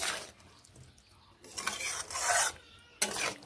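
A spoon scrapes and rubs through ridge gourd masala being stirred in a pan, in a few separate raspy strokes with short pauses between them, close and fairly loud.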